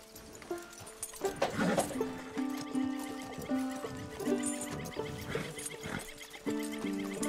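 Horse neighing and whinnying in the Red Dead Redemption 2 video game, heard over a layered music-like backdrop with a steady game soundscape throughout.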